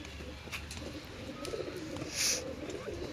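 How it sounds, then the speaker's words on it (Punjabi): Pigeons coo softly in a steady background at a pigeon sale, with a brief brighter bird call rising midway and faint ambient noise throughout. "ਲਓ ਜੀ ਆ ਵੀ ਬਾਈ ਕਬੂਤਰ ਹੈ"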